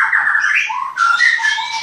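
White-rumped shama (murai batu) chicks chirping up close at a bird-breeding setup in Klaten, a loud continuous stream of high, wavering calls with no talk.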